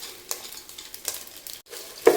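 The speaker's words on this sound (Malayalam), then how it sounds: "അരി നന്നായിട്ട് ഇളക്കി ഒന്ന് ചൂടാവട്ടെ." Rice stirred through hot spices in a pan for beef biryani, giving a few brief scraping stirs over a soft, steady sizzle, close up with no talking.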